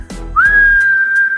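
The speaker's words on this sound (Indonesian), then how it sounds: "kepala rampok ini mengeluarkan suara suitan nyaring, memberi isyarat pada anak buahnya untuk segera naik ke atas" A loud, shrill whistle, used as a robber chief's signal in an audiobook sound effect, rises quickly and holds one piercing sustained tone, preceded by a few soft thuds.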